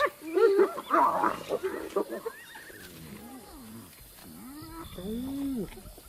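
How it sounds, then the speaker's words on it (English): Hyenas squabble over an impala kill in the wild, with loud whoops, yelps and rising whining calls that overlap at first and then thin out into separate cries. "Hyenas are ripping an impala kill apart."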